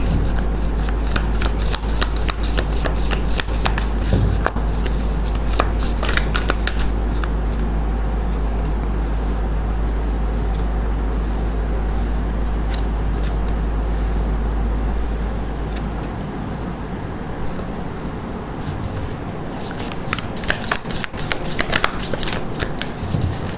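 A tarot card deck is shuffled over and over, close and steady, in a run of crisp papery riffles and flutters over a low constant hum, fading briefly before the shuffling returns near the end.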